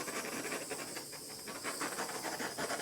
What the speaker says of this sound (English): I'm going to torch the bubbles.